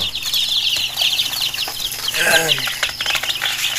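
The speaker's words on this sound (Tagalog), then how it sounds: "Ito na yung ating sisiw." Six-day-old chicks peep in a dense, continuous high chorus with soft wing flutters, close by, while someone talks over them.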